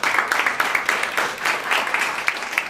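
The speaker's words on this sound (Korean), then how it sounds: "박수로 해주시면 감사하겠습니다." Audience clapping at a startup conference session on game marketing, a steady, moderately loud wash of hand claps filling the room for a few seconds.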